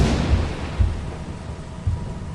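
Thunder and lightning striking in a storm within a solo Titan game, a loud low rumbling roar with a couple of heavier booming thumps, filling the short stretch alone.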